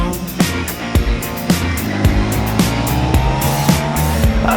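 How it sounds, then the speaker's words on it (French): BMW K 1600 GT six-cylinder touring motorcycle engine roaring loudly and steadily, with repeated sharp revving surges and throttle bursts standing out above a dense mechanical drone, no talking. "Non, c'était pas une Ferrari, c'est juste la nouvelle K16 100 GT."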